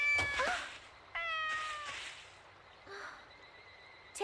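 A kitten meows several times in an anime, short high cries separated by brief pauses, close and fairly loud against a quiet background.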